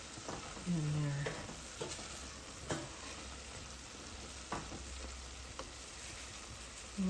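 Chicken gnocchi soup ingredients sizzling gently in a pot, a steady soft frying hiss with occasional utensil knocks and scrapes from stirring, close up with no talking.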